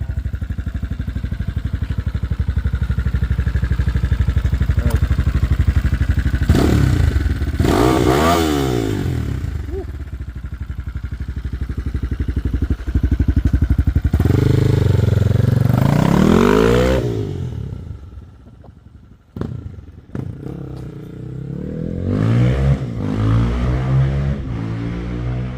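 A brand new Honda motorcycle is ridden and revved, its engine rising and falling through several loud acceleration sweeps, close, then fading off before revving up again. Mechanical clatter accompanies it, with no clear talk.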